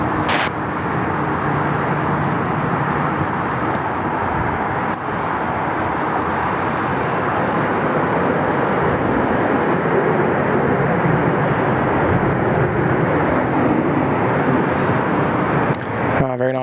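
Airliners at Sydney Airport, with 747 and A380 jets among them, produce a continuous loud roar of jet engines that holds steady for the whole stretch, broadband and rumbling. A brief sharp noise comes at the very end.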